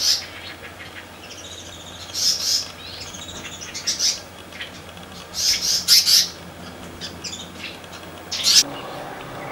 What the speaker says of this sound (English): this hornbill is being viciously attacked by other birds because it appears that he might have got too close to their nests